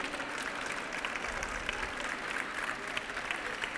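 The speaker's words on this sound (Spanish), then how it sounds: "otro fuerte aplauso para recibir a Jorge Dipólito en el escenario" An audience at a 25th-anniversary celebration for architecture graduates applauds to welcome a speaker onto the stage, a continuous, fairly close round of clapping without a break.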